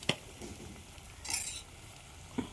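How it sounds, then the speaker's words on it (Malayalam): Fresh oil sardines are stirred through masala in a hot pan: a sharp utensil clack opens, then a brief burst of sizzling hiss mid-way and another scrape near the end, with no talking. "ഇനി മത്തിയൊക്കെ നല്ലവണ്ണം മസാലയായിട്ട് മിക്സ് ചെയ്ത് കൊടുക്കണം"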